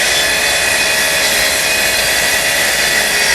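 A track saw runs on a rail without clamps, cutting through wood with a loud, continuous high-pitched whine and rasp that holds steady throughout, close and alone.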